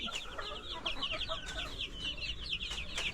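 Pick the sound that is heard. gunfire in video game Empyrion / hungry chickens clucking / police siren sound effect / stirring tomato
hungry chickens clucking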